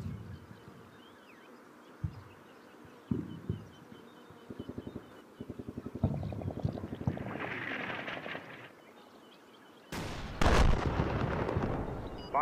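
An artillery barrage in Combat Mission: Battle for Normandy, with scattered thuds and rumbling impacts that build into rapid rattling volleys, then a loud, sustained blast toward the end.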